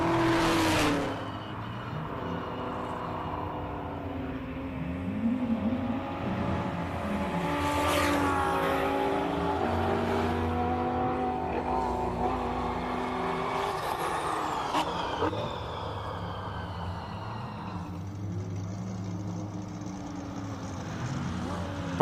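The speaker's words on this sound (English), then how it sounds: "One of the Giannaccaro brothers, Giacomo, in the Audi R8" An Audi R8 GT4 race car climbs a hill climb course, its engine revving hard through repeated upshifts and rising pitch sweeps, fairly distant and sustained, with brief commentary-like voice traces underneath.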